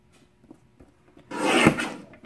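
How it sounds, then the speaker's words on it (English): A paper trimmer slices through a sheet of turquoise print paper in one broad, close swish lasting under a second, preceded by faint taps and rustles of handling. "Next, I'll trim the turquoise print a whole bunch of times."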